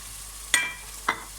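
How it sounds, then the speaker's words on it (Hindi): Frozen peas tipped into a pot for vegetable pulao make two brief, bright rattling clatters about half a second apart, close and fairly loud against a quiet background. "ये 1 पाव फ्रोज़न मटर है, वो मैं डाल रही हूँ"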